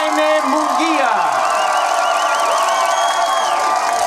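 Boxing weigh-in crowd cheering and whooping for Jaime Munguia, a dense, loud roar of many voices with shouts and whistles rising over it throughout.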